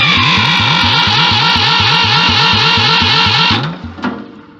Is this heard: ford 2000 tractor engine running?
yes